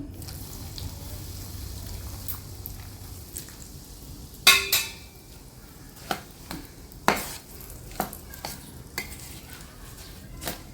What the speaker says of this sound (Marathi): मी हिंग इकडे तेलाजवळ इकडे टाकून घेते त्याच्यावर तेल टाकून घेते